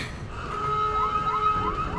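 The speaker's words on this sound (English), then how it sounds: "Oh, the siren's getting worse" An emergency safety lockdown siren wails in Resident Evil 7, a loud electronic tone with repeated rising sweeps that holds steady throughout.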